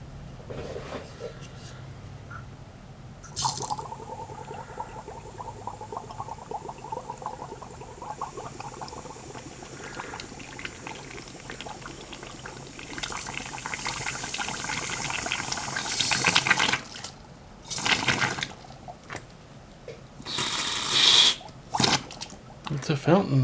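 Solvent flushes out of a Saab 9000 AC compressor, a fizzing, bubbling spray that builds in bursts toward the end, with a person talking over parts of it.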